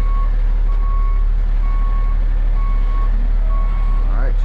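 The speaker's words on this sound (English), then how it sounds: "Alright, just back up into it." Tow truck backing up to pick up a bucket truck from the rear: a loud, evenly spaced reversing beep repeats over a steady diesel idle rumble, with a brief whine near the end.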